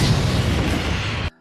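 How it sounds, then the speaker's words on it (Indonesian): A sack of remains bursts in a film scene, a loud, sustained explosive roar with deep rumble lasting over a second before cutting abruptly to silence. "ngerinya karung tidak terbakar habis dan tiba-tiba meledak hingga menyalakan alarm kebakaran"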